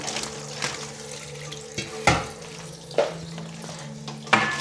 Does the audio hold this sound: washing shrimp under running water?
yes